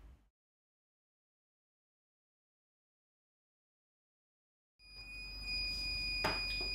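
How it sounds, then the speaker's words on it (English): A sublimation heat press signals it is finished with a steady electronic beep tone, a faint hum and background noise, starting abruptly after a long stretch of silence. "you open your press as it will beep telling you that it's ready."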